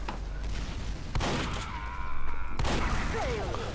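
Several sharp bursts of gunfire in Team Fortress 2 crack out in quick succession amid a noisy, cluttered background, with bits of voice underneath.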